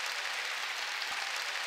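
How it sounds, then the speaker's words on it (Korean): A church congregation at a New Year's Eve watch-night service claps together, a dense, steady wash of applause sustained throughout without speech. "깨달은 사람만 박수 치라고"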